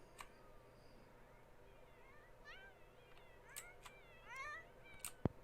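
A cat meows several times in short rising and falling cries, fairly faint and somewhat distant, over a quiet background with a few sharp clicks.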